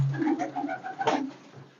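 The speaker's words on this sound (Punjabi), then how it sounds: "ਅੱਛਾ ਭਾਈ ਸਲਮਾਨ, ਇਹ ਤਰ੍ਹਾਂ ਦੇ ਕਬੂਤਰ ਬੈਠ ਜਾਂਦਾ" Breeder pigeons coo softly nearby, a short run of low, rolling throaty calls with no other sounds.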